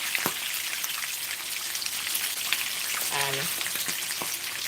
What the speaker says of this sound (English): we're frying it now